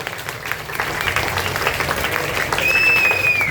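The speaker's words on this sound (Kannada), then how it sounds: "ಮಕ್ಕಳೇ, ಒಂದು ಜೋರಾದ ಚಪ್ಪಾಳೆ ಅವರಿಗೆ." Children clapping loudly together at a school gathering, a dense close patter of applause that swells and keeps going, with a brief whistle-like tone near the end.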